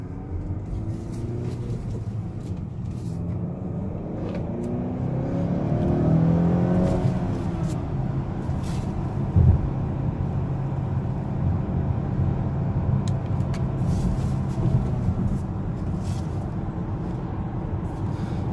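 Steady engine drone and road noise from a 2019 Honda Accord Sport 2.0T with a manual transmission, heard from inside while driving, with a mid-clip rise in revs as it accelerates before settling back to an even cruise.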